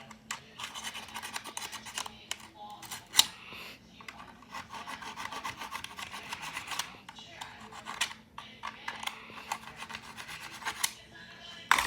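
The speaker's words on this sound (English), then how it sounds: "I've modified this rail by filing it down" A file rasps against the rail of a plastic Nerf blaster in uneven bursts of scraping strokes, quiet and close.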